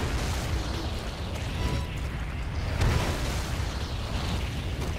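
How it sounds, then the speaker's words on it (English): Rocket launcher explosions erupt in the Resident Evil 6 video game, a loud, continuous barrage of rumbling blasts and bursts with crackling debris, no voices over it. "They're shooting rocket launchers at me."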